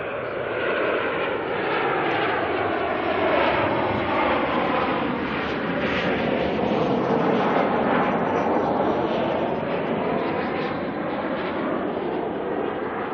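Qantas QF 143, a Boeing 737 arriving from Sydney, makes a steady loud jet roar that holds for the whole stretch, with shifting engine tones and no talk over it.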